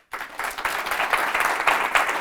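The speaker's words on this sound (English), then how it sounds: "I'll keep clapping." An audience claps steadily after a drum practice-method lesson, forming a dense, sustained wash of applause at moderate loudness that starts abruptly and holds without pause.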